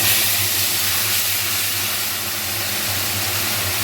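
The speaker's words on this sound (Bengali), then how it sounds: "পেস্ট করে রাখা মশলাটা যেই পেস্টের কথা বলেছিলাম সেই পেস্টটা দিয়ে দিচ্ছি" Ground spice paste fries in hot oil for a prawn curry, giving a loud, dense, steady sizzle that fills the whole stretch with no talk.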